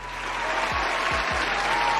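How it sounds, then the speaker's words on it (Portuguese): A short burst of dense crowd applause plays as a sound effect during Call of Duty Warzone match commentary, loud and steady for about two seconds. "palmas!"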